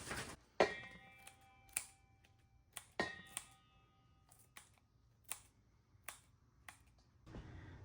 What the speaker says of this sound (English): use my scissors to cut all this bacon up into little pieces